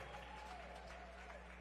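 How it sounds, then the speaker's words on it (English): A jazz concert audience applauds a bassist with steady clapping that stays even and moderately distant, with a faint background hum under it. "You can applaud for her."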